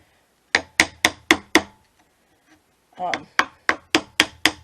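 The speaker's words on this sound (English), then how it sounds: "I'm using the chisel bevel side down." A wood chisel held bevel side down pops up inlay wedges in a series of sharp, evenly spaced knocks, five in a quick burst, a short pause, then a steadier run of six more, close and fairly loud.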